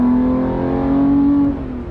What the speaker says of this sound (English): Auto rev match.